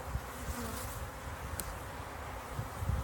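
Honeybees and drones buzz in an opened hive during a spring split, making a soft continuous drone with a few closer, louder passes.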